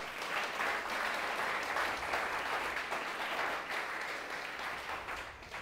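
Church congregation applauding during a Sunday worship service, a steady dense wash of clapping from many hands that holds for several seconds before easing slightly.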